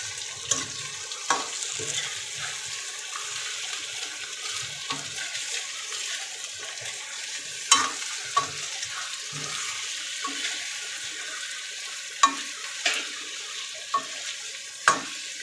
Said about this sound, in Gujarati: હાલો હવે આમાં મિક્સ કરી લઈ ધીમા હાથે સાવ